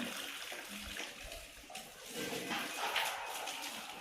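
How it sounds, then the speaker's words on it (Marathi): Water poured over freshly picked raw mangoes in a pot for homemade mango pickle, a faint, steady gush and splash lasting a few seconds. "याच्यामध्ये आपण पाणी ओतूया।"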